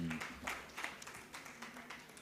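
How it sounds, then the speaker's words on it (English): A symposium audience claps in a short round, brisk and moderately close, with the patter thinning toward the end and a murmur of voices underneath. "Round of applause to her."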